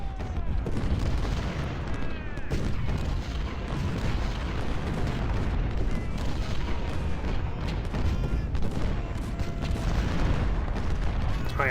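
Cannon artillery volleys boom repeatedly across a Civil War battlefield in the strategy game Ultimate General: Civil War, dense and continuous with layered musket crackle and no talk over them.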